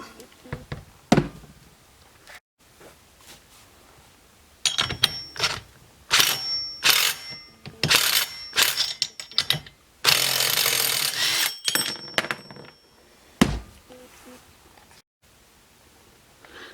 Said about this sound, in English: I'm going to use my impact driver to go ahead and just remove that